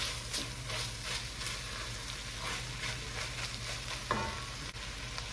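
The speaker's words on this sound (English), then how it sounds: "Stir that up." Homemade chili being stirred in a pot over the heat, with a steady sizzle and soft scraping, a clear knock of the spoon near the end, close and fairly quiet with no talk.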